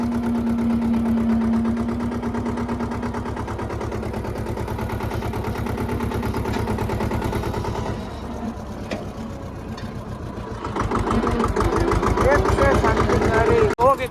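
A handmade Punjabi-style tractor idles nearby with a steady, rhythmic mid-pitched engine thrum that grows louder and rougher toward the end, while people talk over it.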